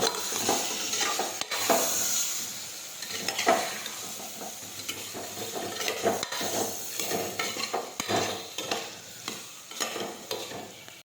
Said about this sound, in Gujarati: હવે બધા મસાલા છે તે મિક્સ કરી દઈશું આ રીતે.